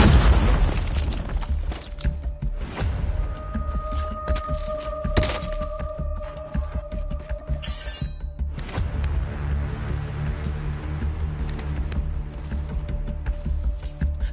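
Grenade and rocket launcher blasts go off in a video game shootout, with a series of booming explosions and thuds spread over the fight.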